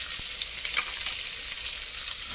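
Garlic and onion sautéing in a pan for miswa with sardines, a steady close hiss of hot-oil sizzle running unbroken throughout.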